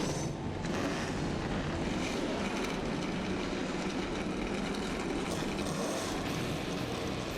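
A field of NASCAR Camping World Truck Series engines fire up and roar at Dover International Speedway in 2010, a dense, loud, continuous rumble that fills the air with no break and no voices.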